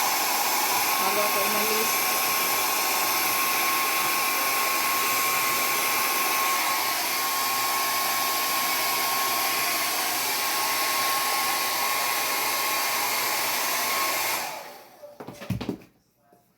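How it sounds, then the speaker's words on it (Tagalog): A hair dryer blows hair dry with a loud, steady whooshing hum that runs on for about fourteen seconds, then cuts off and falls quiet. Someone speaks briefly over the drone near its end. "Kailangan kong i-dry kasi pag nasa trabaho na kasi nakakulitin yung buhok bawal maglaylay ang buhok kaya dry ko muna"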